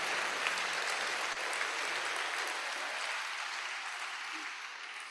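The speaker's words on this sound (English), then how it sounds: "Distinguished guests, ladies and gentlemen, a round of applause as he sips the water" Audience applause rings through the hall after a university inaugural lecture, a steady wash of clapping that slowly fades toward the end.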